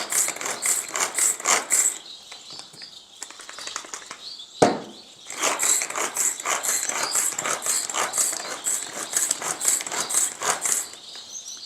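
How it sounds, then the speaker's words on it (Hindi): A small hand-pulled chopper crushes soft food ingredients for Gouldian finches, giving a rapid series of loud ratcheting, rattling bursts with a brief pause near the middle and no talk. "थोड़ी थोड़ी हर चीज़ डालेंगे तो ये जल्दी भी होगा और बेहतरीन क्रश हो जाएगा"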